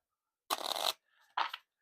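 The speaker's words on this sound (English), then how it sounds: "And the material cards, you will shuffle up" A deck of material cards from a tower-building board game is shuffled at close range, two quick papery riffle bursts separated by a brief soft rustle.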